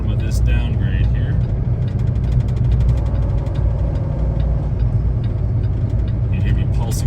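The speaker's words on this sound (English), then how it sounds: "You hear me pulsing my engine brake, just kind of easing off as I go." A truck descends a snowy downgrade in an Oregon snowstorm, its engine brake pulsing as a loud, close, continuous low diesel rumble with a rhythmic chatter layered on top; a driver's voice is faintly present.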